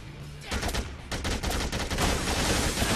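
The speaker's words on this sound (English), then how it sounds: "Oh yeah, he's gonna shoot a shotgun all wild." Rapid shotgun blasts fired wildly in the zombie game Dead Rising 2, a dense run of loud, close bursts following one another with almost no gap for about two and a half seconds after a brief quiet start.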